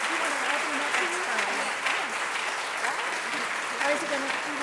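Steady audience applause at a retirement reception fills the room without a break, while people talk over the clapping throughout.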